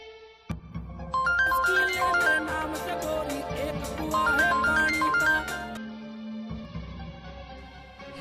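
A phone ringtone plays a loud, repeating melodic tune for several seconds during a call to a police officer, then cuts off abruptly, leaving a quieter tone.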